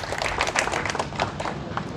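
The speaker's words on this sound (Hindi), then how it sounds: "तालियां बजा दें।" An audience at a Samajwadi Party rally in Malegaon claps, a dense patter of many hands that carries on steadily for the whole stretch.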